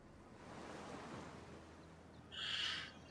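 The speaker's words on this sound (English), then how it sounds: "Look, there's a waterfall here." Steady wash of a waterfall in a video game, a soft continuous broadband rush at low level throughout, with a brief brighter hiss swelling near the end and no voices.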